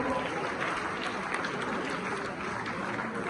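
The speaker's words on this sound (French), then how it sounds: "Sous vos applaudissements, on applaudit grâce du taureau." Crowd applause at a wedding celebration, a dense steady patter of many hands that holds evenly for a few seconds, with voices mixed into the noise.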